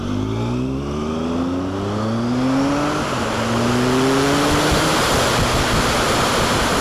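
A 2005 Triumph 955i motorcycle with a Power Commander III revs up through rising gear tones, its engine loud and close over steady wind roar, pulling hard before a brief shift and climbing again.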